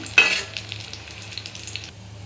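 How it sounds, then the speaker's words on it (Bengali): Garlic and onion frying in a pan, a brief sizzle that bursts in loudly at first then settles into a steady, quieter crackle before fading out, close by. "আমি এখানে সামান্য রসুন আর পেঁয়াজ ভেজে নিচ্ছি"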